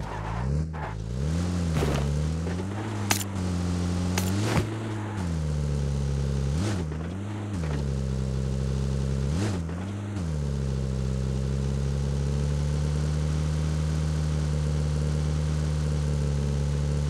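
A car engine in the mobile battle game BGMI hums steadily at close range throughout, with pitch dips and surges as the vehicle drives, plus a few sharp impact-like bursts early on.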